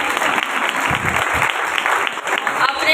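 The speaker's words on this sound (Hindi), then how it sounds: "जोर से ताली बजाओ।" Loud, dense applause from a church congregation at a New Jerusalem church service, continuous steady clapping filling the room for the whole stretch with a faint voice underneath.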